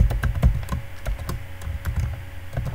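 Java code being typed on a computer keyboard: a quick, irregular run of crisp key clicks and clacks, close and clear, with no voices.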